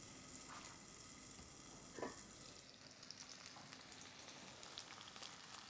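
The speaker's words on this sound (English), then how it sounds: "I can hear my onions simmering away there." Onions simmer in a pan with a constant soft sizzle and faint crackle, quiet and steady, with an occasional small pop.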